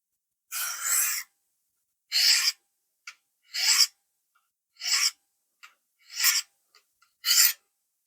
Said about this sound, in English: there's a few passes on a 600 grit diamond